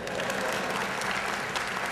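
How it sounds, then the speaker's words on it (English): Steady, dense audience applause from a lecture crowd at the Skepticon 3 skeptics' conference, filling the whole moment with continuous clapping and no break. "Yes, you can applaud, please."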